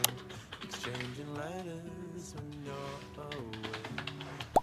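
A computer keyboard being typed on to log in, with soft, irregular key clicks running beneath a person talking throughout, and a sharper tap at the very end.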